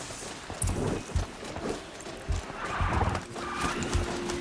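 Clip-clopping hooves of a mechanical Strider mount in the game Horizon Zero Dawn, loud and near, with a whinny-like call mixed into the galloping rhythm.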